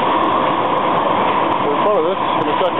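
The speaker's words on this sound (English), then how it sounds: "there goes the Muni train." A San Francisco Muni train rolls past at the corner of Carl and Cole, a loud, continuous rumble and roar that fills the street. It is heard close up, with a faint wavering tone near the end.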